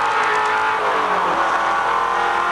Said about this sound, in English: Another gear change.